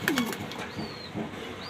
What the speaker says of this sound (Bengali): আর এক পেয়ার অস্ট্রেলিয়ান রিংনেট গোল্ডেন কালার ঘুঘু, মালয়েশিয়ান রিংনেট